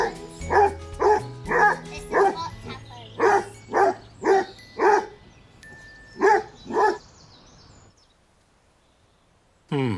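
A Basset Hound in a garden by raised beds barks about ten times in a steady, evenly spaced series of deep, loud barks, then falls quiet before one more bark begins at the very end.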